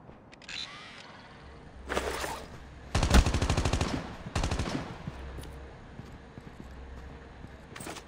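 Automatic gunfire bursts in a Call of Duty: Mobile battle royale match, several rapid rattling volleys at close range with pauses of quieter game ambience between them.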